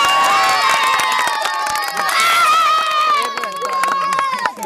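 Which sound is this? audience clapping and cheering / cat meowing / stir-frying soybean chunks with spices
audience clapping and cheering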